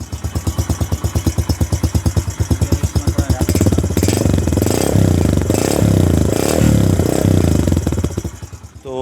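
A Yamaha YBR-G 125 motorcycle engine idles close by with a quick, steady chugging pulse, then rises into a louder, denser roar before dropping back near the end.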